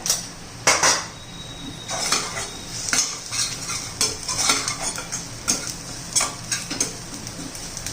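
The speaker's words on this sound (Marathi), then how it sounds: "एक मिनिट भर फिरून घेऊया मसाला घातल्यावर." Homemade garam masala and coriander powder stir-fried in oil for a potato curry, with a soft sizzle under repeated sharp clinks and scrapes of a metal spoon against the pan, close-up and without talking.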